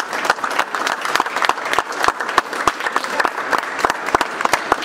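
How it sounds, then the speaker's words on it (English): An audience in a theater applauds actors after a children's classroom musical preview, steady dense clapping from many hands throughout, close and lively with sharp individual claps standing out. "please give them another round of applause"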